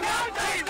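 A crowd sitting on a road shouts slogans in unison during a violent street protest, a dense, loud wall of massed voices with brief dips in the chanting.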